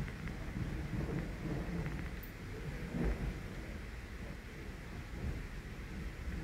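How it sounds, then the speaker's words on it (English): Thunder rumbles low and broad through a steady wash of rain during a late-September thunderstorm, with a stronger roll near the middle, fairly distant and constant, no voices. "And hearing some thunder."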